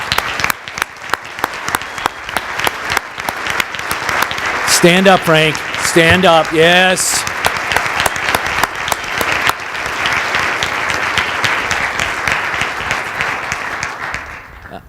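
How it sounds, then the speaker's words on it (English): A large meeting audience bursts into sustained, loud applause that fills the whole stretch, while a man calls out over the clapping midway through. "Frank, you deserve a round of applause"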